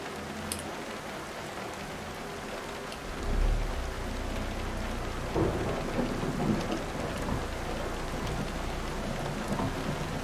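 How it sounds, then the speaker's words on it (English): Heavy rain pours steadily in a thunderstorm inside an American truck-driving game, with a deep rumble of thunder rolling in partway through and the downpour continuing loud and dense to the end. "it turned into a hell of a storm all of a sudden"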